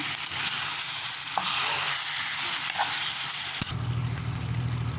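Ground beef for lasagna fries in a pan while being stirred, giving a steady close sizzle with soft scraping strokes, then a brief knock before the frying carries on a little quieter.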